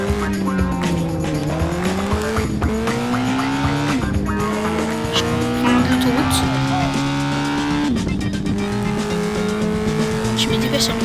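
A car races at speed while fleeing police in Gangstar IV, engine pitch climbing and shifting through gears with loud, sustained revving and tire squeal, a dense game soundtrack of sirens and effects layered underneath.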